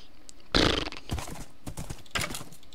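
Horse hooves clopping in the Minecraft video game, a loud burst of steps followed by a run of quick, irregular clip-clop beats up close, with no talk.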